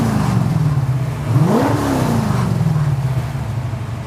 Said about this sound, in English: Hit a couple more revs on that.